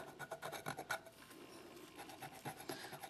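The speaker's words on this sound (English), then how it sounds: "just gently scrape that little bit off." Gummy acrylic residue being gently scraped off fingernails, a soft dry rasping in short repeated strokes, close and quiet, with no voices.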